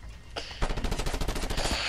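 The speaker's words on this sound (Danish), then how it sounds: "Han står og skyder på mig med en maskinpistol." Rapid automatic fire from an enemy's machine pistol in Just Cause 2 on PC, a loud close burst of continuous shots that kicks in after a brief lull and rattles on steadily.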